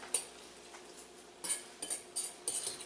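Shrimp taco coleslaw being stirred with mayo in a bowl, a utensil scraping and clinking against the sides in a few short bursts of quick, close strokes, with quiet pauses between them.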